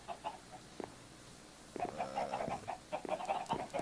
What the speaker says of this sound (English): Come over to the chicken farm.